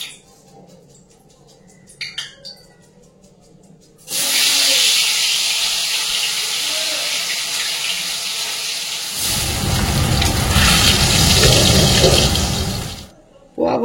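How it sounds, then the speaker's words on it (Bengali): Poa bhola fish pieces go into hot oil in a kadai with a sudden, loud sizzle that hisses on and swells louder midway before stopping abruptly; brief soft sounds and a voice come before it. "এবার কড়াইয়ের মধ্যে আমি মাছগুলো এক এক করে ভেজে নেবো।"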